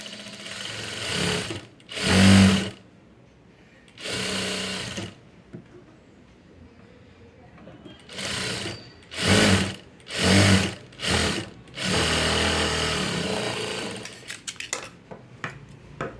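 Sewing machine stitching self piping on a blouse, running in several separate bursts of steady mechanical whirring with short quiet pauses between them, close and fairly loud with no talking.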